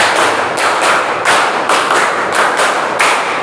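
A school class claps together in rhythm, loud, crisp group claps falling in two quick bursts of five.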